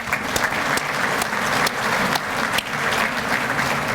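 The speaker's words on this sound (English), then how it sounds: "And give a round of applause." Audience at a community chamber of commerce luncheon applauding, a steady dense wash of clapping hands throughout with a few sharper claps standing out, no voices over it.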